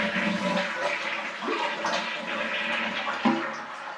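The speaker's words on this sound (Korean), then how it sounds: "제가 변기물을 한 번 더 내려볼게요." A toilet flushes with a rushing surge of water that gurgles and swirls, loud and close in a small bathroom, draining through several gulping bursts over four seconds.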